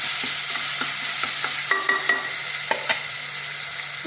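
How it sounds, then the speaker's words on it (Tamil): Ingredients for coconut milk pulao sauté in a pan with a constant bright sizzle. Irregular light taps and scrapes come from stirring, and a short clattering burst of utensil knocks lands near the middle. No one talks. "நல்லா வதங்கட்டும்"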